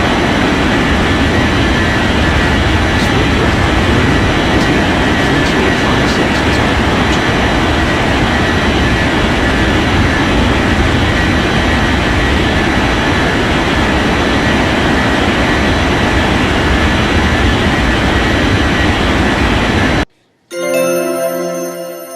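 A jet airliner takes off in the video game Unmatched Air Traffic Control, a loud, sustained roaring engine wash that holds steady for about twenty seconds, cuts out abruptly, then briefly returns.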